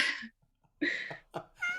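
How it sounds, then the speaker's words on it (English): A pet cat meows three times in short, separate calls during a quiet home video chat, each call fairly close and clear, with brief silences in between. "Finally see the kitty."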